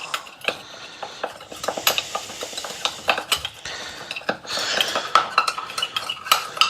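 A utensil stirs a cumin spice paste in a pan, producing a busy run of scraping and clinking metal-on-pan knocks at irregular pace, close and fairly loud, with a faint sizzle beneath.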